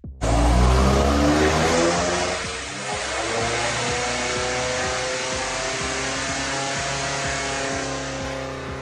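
A BMW M5 in limp mode revs hard on a dyno, its loud engine roaring near and steady for several seconds after a sharp initial burst, with a brief dip before holding high.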